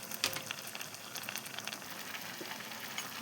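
A pot of vegetable kurma with cauliflower and carrot starts boiling, giving a faint, steady bubbling sizzle with scattered soft pops and no talk.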